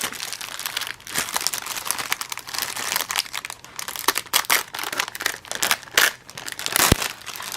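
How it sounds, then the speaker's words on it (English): Crisp paper wrapping is crumpled and crinkled while being pulled off a Christmas diamond painting kit, in loud, close, irregular bursts of rustling and crackling with short pauses. "I'm gonna take it out of the paper, of the wrapping"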